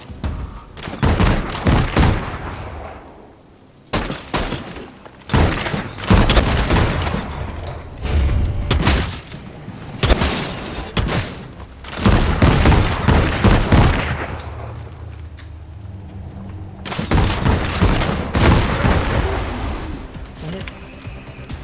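Repeated bursts of gunfire and heavy booms from the vampire battle-royale shooter Vampire: The Masquerade - Bloodhunt, loud and close, coming in clustered volleys with brief quiet gaps between them.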